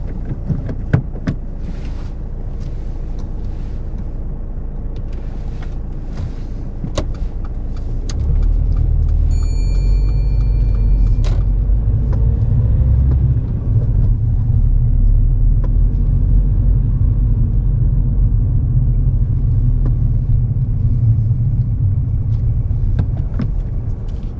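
A car pulls away during a driving test, its engine rising into a steady, close, low rumble that carries on with little change after a quiet stretch of faint interior clicks.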